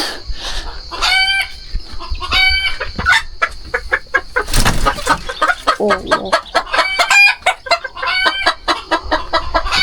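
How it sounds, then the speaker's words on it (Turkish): Roosters crow loudly and nearby, several drawn-out calls mixed with rapid clucking and squawks from other fowl. "Bu horozlar biraz değişik."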